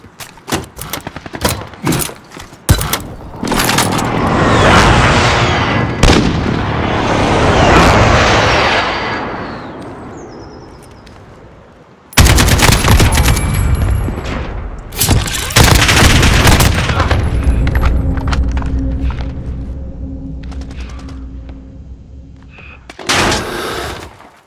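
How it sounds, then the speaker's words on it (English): Explosions and gunfire from a precision airstrike in Call of Duty: Modern Warfare (2019), loud and continuous with heavy booms, rumbling blasts and crackling shots layered densely, a sudden new barrage midway, then fading. "Enemy precision airstrike inbound!"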